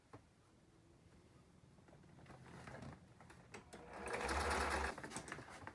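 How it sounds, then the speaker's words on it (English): A sewing machine stitches an elastic loop onto folded fabric for a dress sleeve, its motor faint at first, then whirring louder and denser near the end before easing off. "now we sew the loop on the other side. Again, just fold down about 1 inch and start sewing."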